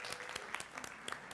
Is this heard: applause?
yes